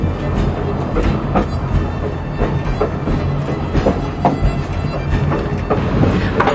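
A heritage train at Railtown State Historic Park rolls along nearby with a steady rumble and repeated clickety-clack wheel beats over the rail joints, heard alone without talk.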